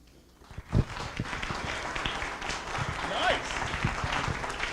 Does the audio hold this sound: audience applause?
yes